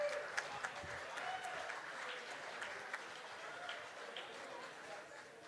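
Audience applause at a tribute concert, a fairly faint, steady patter of clapping lasting throughout with scattered crowd noise.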